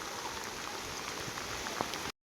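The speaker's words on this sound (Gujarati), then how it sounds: "આ જો અત્યારે વરસાદ આવે છે ફૂલ" Steady rain falls near the sea, a continuous close hiss of drops spattering on surfaces with no voices, holding level until it cuts off abruptly.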